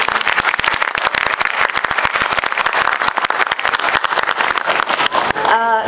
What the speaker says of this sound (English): So just please give him a big round of applause.